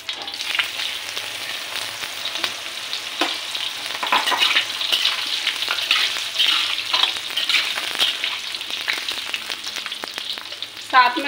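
Tinde (apple gourd) hitting hot oil with cumin seeds in a kadhai, giving a continuous close sizzle with repeated scraping stirs throughout and a sharper clatter near the end.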